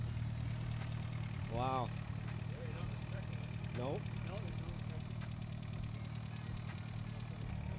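A turbocharged car fitted with a three-inch exhaust idles with a steady, deep rumble throughout, while people nearby exchange a few brief words over it.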